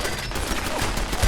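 Ceiling-mounted turrets firing in a video game, a dense continuous rattle of rapid gunfire filling the scene, loud and unbroken.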